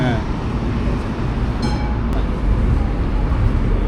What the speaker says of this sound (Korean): 그 무료인 트램입니다. 시내 무료 트램.